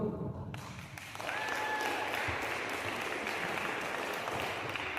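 Steady applause from a crowd, filling the room for several seconds after a short quieter start, with a brief whistle partway through.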